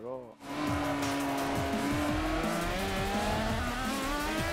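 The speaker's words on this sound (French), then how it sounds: "dès que tu touches au volant, cette voiture elle part en drift" A car in Forza Motorsport on the Hockenheim circuit slides into a drift, tires squealing in long wavering whines over a loud revving engine, continuous and close.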